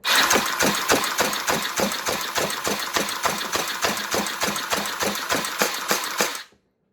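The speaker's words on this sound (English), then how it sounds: "That got through a full magazine. And all the darts seem to be of good FPS." A Battlemage automatic electric foam dart blaster fires a full magazine in one rapid, evenly spaced volley of whirring thumps over about six seconds, then cuts off into silence.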